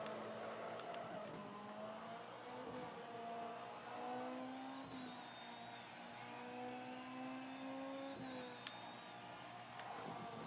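A Ferrari engine drones steadily as the car laps Circuit Gilles-Villeneuve in the Ferrari Challenge video game, pitch rising and falling through gear changes, with tire noise and faint background sounds.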